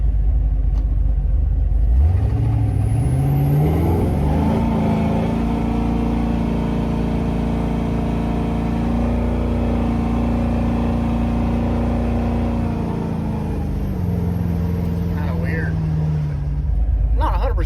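A truck with a heavy-duty transmission that slips before engaging: a loud, close engine rumble whose pitch sweeps up as the revs climb, holds high, then eases back down at the end.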